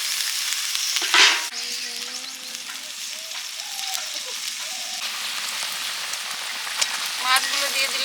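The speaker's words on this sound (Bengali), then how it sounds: "জল দিয়ে দিলাম।" Water poured into a hot pan of Bengali fish curry hisses and sizzles continuously, a loud close crackle with a brief burst of louder spluttering early on, while faint voices talk in the background.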